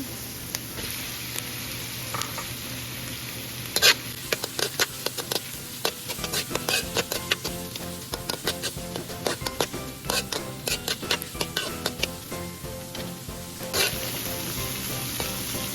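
Shrimp sizzle loudly in a frying pan, a dense continuous crackle with many sharp spitting pops through the middle and utensil clatter now and then.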